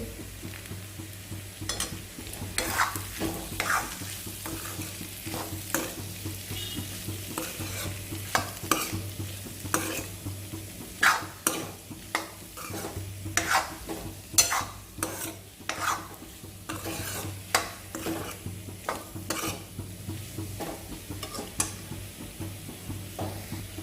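Spatula stirring potato bhaji seasoned with salt in a pan, with steady scraping and clinking strokes over a soft sizzle, close and fairly quiet, no voices.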